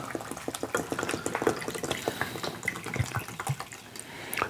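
Tap water runs into a cup while measuring two cups of water for mango habanero moonshine, a close, splashy, uneven stream with drips.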